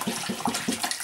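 Warm water at 85 degrees splashes steadily into a wash tub in a short burst, a close, continuous pouring rush with a faint rhythmic bubbling.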